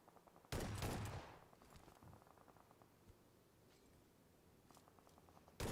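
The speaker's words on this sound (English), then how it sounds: "The shotgun is still there. Sprays it into the dirt behind Nico." A loud shotgun blast erupts in a PUBG Mobile esports match, one sharp, heavy report that rings out and fades, followed by quieter ambient game sounds and a fainter shot near the end.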